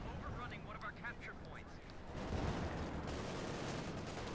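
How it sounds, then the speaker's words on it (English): A Panzer IV tank in Company of Heroes 2 fires its main gun and machine guns, rumbling booms and rattling bursts rising into a dense barrage in the second half, with a voice speaking over the early part. "the Panzerkampfwagen 4, opening up there with its main gun and machine guns"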